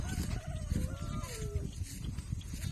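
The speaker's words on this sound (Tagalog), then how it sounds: "punta tayo magpastol ng kambing" Goats on a farm in the Philippines being led out to graze, one bleat rising and falling clearly over a busy outdoor background of shuffling and low rumble, close by.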